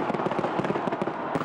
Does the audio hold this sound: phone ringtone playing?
no